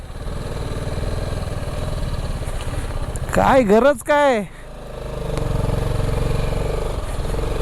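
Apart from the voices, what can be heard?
motorcycle engine while riding through traffic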